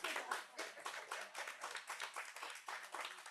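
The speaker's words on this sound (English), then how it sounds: "You may clap." A small audience claps in a quick, uneven patter of close individual hand claps, fairly faint, rising and falling in short bursts for a few seconds.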